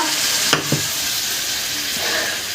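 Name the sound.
water added to frying spice paste in pan, sizzling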